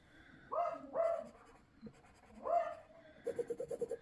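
A dog named Blake barks at neighbor's kids playing in a garden: two close barks, a third after a pause, then a quick run of six short yips, fairly near and loud over a quiet room.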